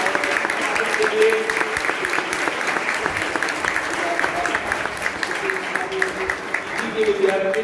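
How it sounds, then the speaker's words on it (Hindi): An audience at an annual college programme applauds a faculty member, loud dense clapping throughout with a voice talking over it. "एक बार जोरदार तालियां उर्वी मैडम"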